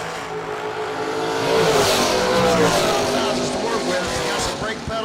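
A dragster launches down a drag strip at a bracket race, its engine roaring loud and close, rising and sustained over a few seconds, with a track announcer talking over it.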